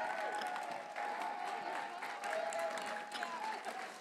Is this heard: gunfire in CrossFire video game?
no